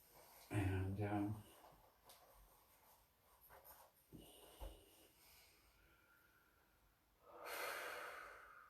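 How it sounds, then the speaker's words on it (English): Slow, deep human breaths come as a few separate long inhales and exhales with quiet pauses between them, close and soft. "relaxing and breathing deeply"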